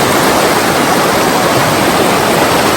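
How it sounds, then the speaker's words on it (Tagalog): Heavy rain pours on a farm as a loud, steady roar of dense noise that drowns out everything else. "Ang lakas ng ulan."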